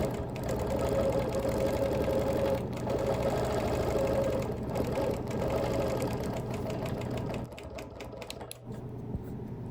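A sewing machine echo quilting around a Baltimore album block hums steadily with a fast rhythmic needle rattle, running close and continuous for most of the stretch before easing slightly near the end.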